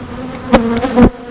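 Honey bees buzz around a backyard hive in a steady drone, with a few louder individual bees zipping close past in brief swells.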